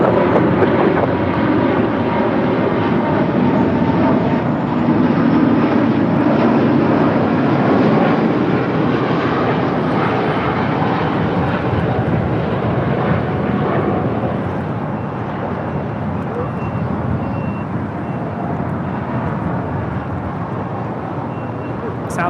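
A Southwest Airlines jet on final approach to runway 25 left, arriving from Chicago Midway over a freeway, gives a loud, steady broadband engine roar that fills the whole stretch, easing slightly toward the end, with voices talking underneath.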